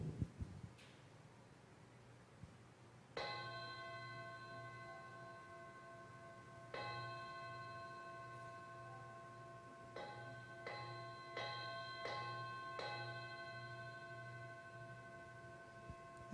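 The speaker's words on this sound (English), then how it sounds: "It's the wake-up bell." A ritual wake-up bell rings out with clear sustained tones, struck about six times with uneven spacing, the later strikes closer together, each ringing on over a quiet room.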